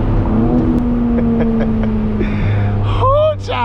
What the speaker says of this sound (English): You want to hear some exhaust?